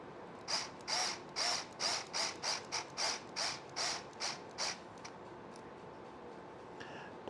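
Small screw driven into a Furitek Komodo Unity crawler part, tapping its own threads: about a dozen short, close ratcheting bursts from a power driver in quick succession, fairly quiet and alone, then stopping.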